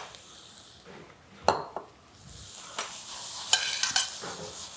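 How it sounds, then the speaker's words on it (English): Food being stirred in a cooking pot during a healthy meal-prep cooking class, with scattered scraping and clinking knocks against the pot over a soft background sizzle, no talking. "I'm going to go here and stir this up once again"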